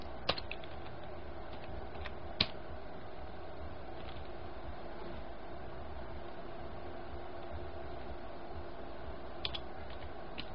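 Keys clattering on a computer keyboard while writing C++ code, with a few brief clusters of clicks and one sharper tap against a quiet, steady hum and no talking.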